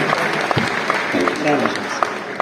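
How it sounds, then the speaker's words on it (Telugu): Audience applause for a speaker at a Diamond Function event, dense and steady through the short stretch, with a voice speaking over the clapping. "చలో బిగ్ క్లాప్స్ రమేష్ బాబు సార్కి."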